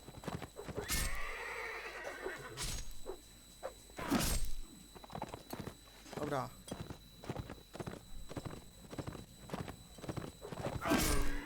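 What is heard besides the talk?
horse neighing and hooves in Mount & Blade Warband video game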